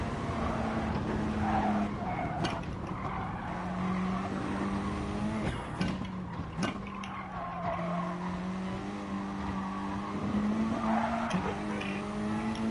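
A race car climbing a steep hill and turning left at Foxhole on the Nürburgring Nordschleife, its engine droning steadily in the foreground with shifting pitch and brief tire squeals and knocks as it bottoms out.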